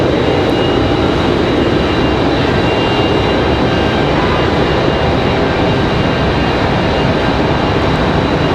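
An Avelo airliner arriving from Fort Myers, Florida at Raleigh-Durham International Airport roars steadily and loudly throughout, a continuous broadband jet rumble with no talking.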